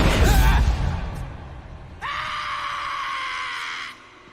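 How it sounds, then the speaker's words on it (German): A scream rings out in a retro video game set in a temple or tomb: a loud burst at the start, then a long, sustained wailing cry that holds steady for about two seconds before cutting off. "Der Schrei war ein bisschen seltsam."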